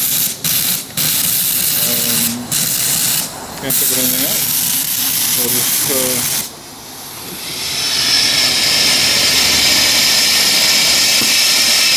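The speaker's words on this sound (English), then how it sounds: "So I'm going to run the engine a little bit." Small steam engine running on boiler steam, with a loud steady hiss of steam filling the second half after brief talk over a noisy background at the start.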